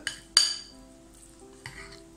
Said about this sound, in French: Et je remue un peu.